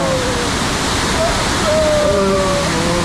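Mountain waterfall in Ravangla, Sikkim, roaring as a dense, continuous loud rush of water that fills the whole stretch, with faint brief tones mixed in.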